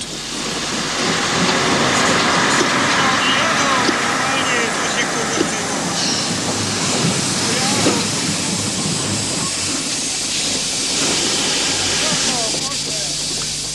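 Train rolling into the Birkenau camp, a steady rumbling ride with hissing and faint clattering wheels, continuous and fairly loud, with someone speaking over it.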